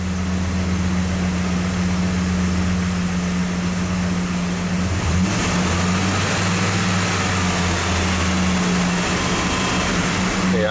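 A 1995 Ford F150 engine idles with the air conditioning on, a steady low hum and fan whir holding even throughout with a brief shift midway, no talk.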